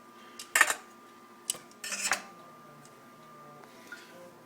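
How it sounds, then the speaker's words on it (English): Carrots are moved out of a cooking pot, giving a few clinks and scrapes of utensil on metal, a short clatter then quieter handling over a low background hum. "And I'm going to transfer the carrots out."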